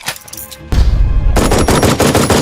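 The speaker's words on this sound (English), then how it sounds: "here's that machine gun the guy in Ernie Village was asking about" Automatic machine-gun fire from the video game Jagged Alliance 3 erupts as a loud, dense burst of rapid shots after a brief quieter moment, continuing in a rattling stream with a short break partway through.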